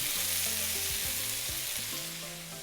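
Salmon sizzles steadily in a hot pan, a bright constant frying hiss close by, with faint stirring sounds underneath.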